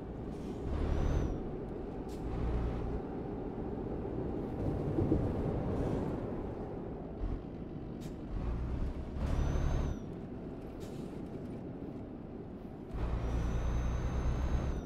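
Truck air brakes in Euro Truck Simulator 2 on a dangerous Peru mountain road give several loud hissing bursts over a steady engine drone, near and spaced across the stretch, with no talk.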